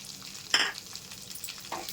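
Chili powder and garam masala fry in hot oil for a spicy paneer curry, with a continuous crackling sizzle and a sharp spatula scrape near the start and another softer stir toward the end.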